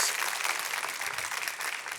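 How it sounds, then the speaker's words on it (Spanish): A church congregation applauds during a worship service, a dense, steady wash of many hands clapping together for about two seconds with no voices standing out. "dele una vez más un fuerte aplauso a aquel que lo merece"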